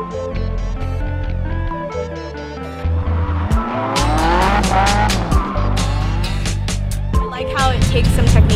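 A drift car slides with loud, sustained tire squeal over a roaring engine, the screech rising and falling in repeated waves for several seconds, with a voice talking partly under the noise.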